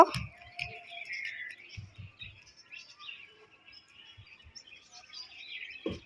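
Small birds chirping indoors near a young child: high, thin tweets and twittering repeating continuously over several seconds, moderately close, with a few soft low thumps and light handling noise beneath.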